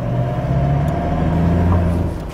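A 2019 Toyota Hilux single cab's 2GD diesel engine revving, a steady close rumble holding at a fairly even level for a couple of seconds with no talk over it.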